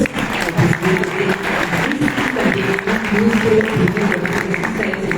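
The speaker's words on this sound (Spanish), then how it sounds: "Un aplauso para ambos." Audience applause at a conference on crude oil prices and fuel taxes, a dense, steady wash of clapping with some murmuring voices mixed in.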